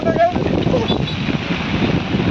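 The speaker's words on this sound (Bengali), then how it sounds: "প্রচুর বাতাস হচ্ছে" Strong gusting wind during Cyclone Remal beside a college lake with rough waves, a loud, steady roar and rumble buffeting the microphone, with a few faint distant calls.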